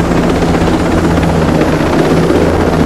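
A helicopter in the video game Ghost Recon Breakpoint drones loud and close with a steady rotor thump and turbine roar that holds for a few seconds, with no voices over it.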